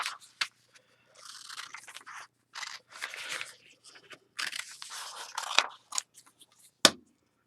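Scissors snip and crunch through paper cards in a run of close, quiet cuts, with short bursts separated by pauses and a sharper snap near the end.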